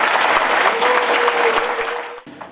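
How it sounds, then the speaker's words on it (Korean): Audience applause fills a Daegu lecture hall at a political talk event, a steady dense wash of many hands clapping that fades out abruptly near the end, with a brief faint voice after. "박수 소리가 적은 것 같아서 한 번 더 인사드리겠습니다."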